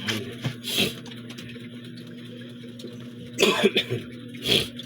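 A man coughs in short harsh bursts while washing dishes, once early on and in a cluster of coughs near the end, close and clear over a low steady hum.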